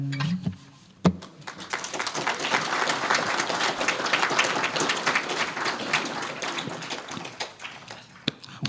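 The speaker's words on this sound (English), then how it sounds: "I'm clapping myself." A lone stage performer at a live show claps for himself, a brief sharp clap followed by steady handclapping that fills the room evenly for several seconds, with no talk over it.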